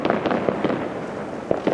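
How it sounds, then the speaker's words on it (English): Fireworks and firecrackers going off outdoors during Lunar New Year celebrations, a series of irregular sharp bangs and crackles at a distance over a continuous rumbling background. "Behind me, there's more fireworks and firecrackers going on."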